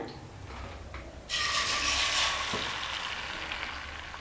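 Beaten egg poured into hot oil, erupting into a loud close sizzle after a few faint clicks, then frying steadily and gradually easing off, with no talk.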